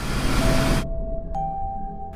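A bright notification bell chimes twice, the first ring cutting off a louder background and the second ringing out alone with a clean, lingering tone.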